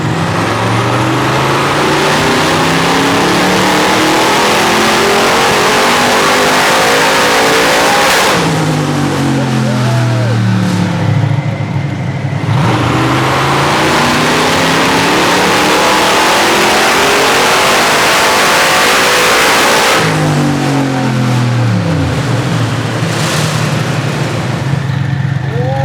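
A Mercedes 190E EVO II widebody engine screams through long, loud revving pulls on a dyno, climbing steeply then cutting off, with a second pull following, close, harsh and continuous.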